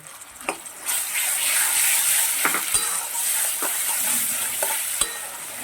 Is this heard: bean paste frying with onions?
yes